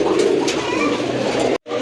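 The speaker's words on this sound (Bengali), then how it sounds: "এটা আপনার প্রচুর ডাকে কিন্তু, এটা হচ্ছে এক জোড়া রেড গড়া কবুতর" A pair of red pigeons coo up close, a continuous throaty burble lasting almost two seconds before a sudden cut.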